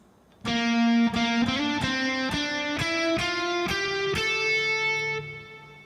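A distorted electric guitar plays single notes climbing steadily up a scale, each note picked clearly and ringing into the next.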